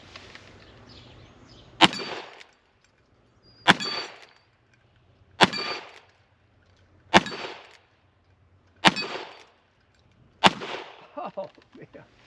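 A Pietta 1873 single action revolver fires six shots at steel plates outdoors, each sharp report followed by a ringing metallic clang, evenly spaced about every two seconds, loud and close with short decaying tails.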